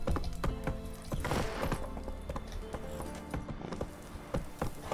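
Roach, the horse in The Witcher III, clip-clops indoors with a steady series of sharp hoof knocks over a busy game soundscape, moderately loud and close throughout.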